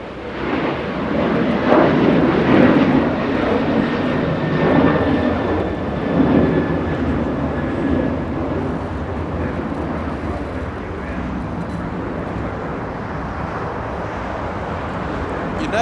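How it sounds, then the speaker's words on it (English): A China Eastern Airbus A330-200 jet arriving from Shanghai at Los Angeles International Airport roars loudly and broadly, its engine noise swelling then slowly easing into a steady fading rumble. "That's an A330-200. The arrival that you saw just a few seconds ago."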